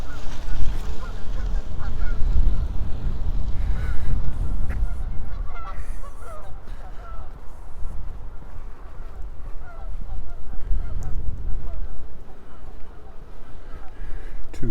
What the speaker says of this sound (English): Two geese, probably a mating pair, because they're up to that sort of stuff right now